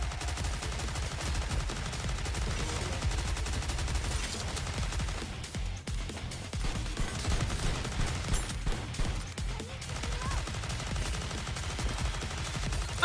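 Sustained automatic gunfire in the game Goddess of Victory: Nikke, dense rapid bursts continuing for several seconds with brief dips, and no talk.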